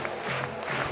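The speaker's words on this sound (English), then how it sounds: "Crowd is really in it tonight." A crowd at an NCAA regional college baseball game at Auburn's Plainsman Park cheers and roars in a brief, dense burst.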